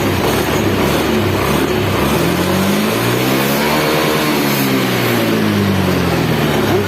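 Honda Beat FI scooter engine with an oxygen sensor manipulator fitted, revving up in a rising then falling sweep, loud and close, with no talk.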